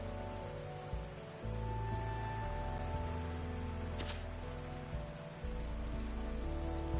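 Rain falls in the farming game Hundred Days, a soft steady patter of drops with a low tonal music bed running underneath and a brief bright burst midway.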